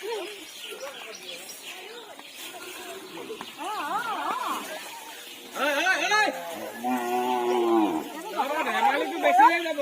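Cattle on an Assamese farm moo repeatedly, several long rising-and-falling calls overlapping, loud and close, with birds chirping faintly in the background.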